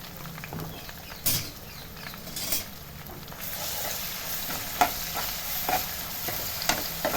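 Ginger paste and onions frying in oil, giving a steady close sizzle with intermittent stirring scrapes and clicks of a utensil against the pan, with no voices.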